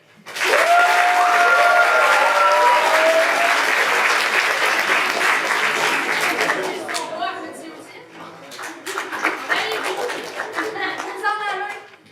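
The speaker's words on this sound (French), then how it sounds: "applaudissez" An audience at a school talent show applauds a magic act with loud, sustained clapping and some cheering, fading after several seconds as a voice begins talking over scattered remaining claps.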